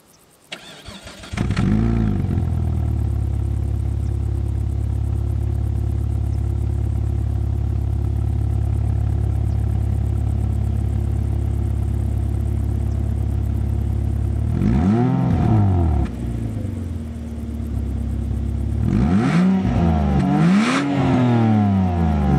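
A 2006 Hyundai Tucson 2.7 V6 starts up and settles into a steady, loud idle through its twin dual exhausts. Near the end come a couple of short revs that swell and fall back, with no voices over it.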